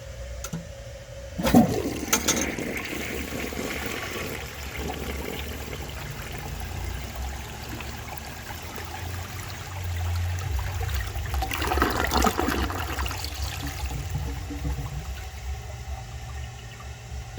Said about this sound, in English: I think the performance of this toilet is pretty good.